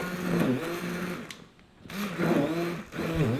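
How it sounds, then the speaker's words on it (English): A handheld stick blender whirs while mixing a milkshake, its motor whine rising and shifting pitch, pausing briefly midway, then starting again loudly up close. "I've got the stick blender in my hand today"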